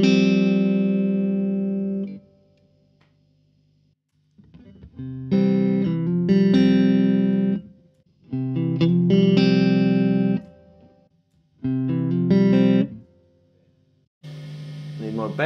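A 1966 Fender Super Reverb guitar amp plays on its vibrato channel with reverb and vibrato, giving separate sustained, pulsing guitar chords broken by short silences, loud and close.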